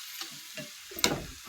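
Chicken liver fry stirred in a hot pan: faint sizzling with a couple of soft scraping strokes and one sharper clink, very brief and without talk.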